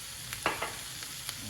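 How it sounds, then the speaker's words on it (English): Garlic paste and vegetables stirred in a frying pan, a few soft scraping strokes over a low, steady sizzle. "And you keep stirring."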